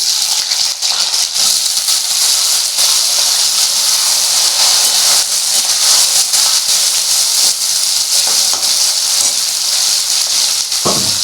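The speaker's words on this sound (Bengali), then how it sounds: "পেঁয়াজটা আমি যখন ভাজছি" Chopped onions fry in a pan for a mutton liver curry, giving a steady, loud, bright sizzle and hiss that runs without a break and with no voices over it.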